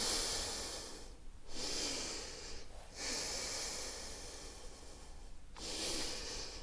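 Long, breathy exhalations during a morning stretching workout, three or four slow hissing breaths separated by short quiet pauses, close and fairly soft.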